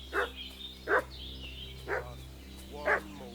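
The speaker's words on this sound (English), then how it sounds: "What's that dog making such a fuss about?" A dog barks four times at steady intervals in the medieval game Kingdom Come: Deliverance II, sharp and moderately distant over a quiet ambient background with no talking.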